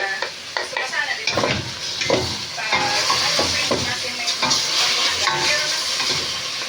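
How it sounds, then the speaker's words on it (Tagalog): Chicken sautés in a pan for a Filipino-style creamy chicken curry with butter: a loud, steady sizzle and hiss, with scraping strokes of stirring and occasional clinks against the pan throughout. "Ginigisa. Filipino. Filipino style. Chicken curry."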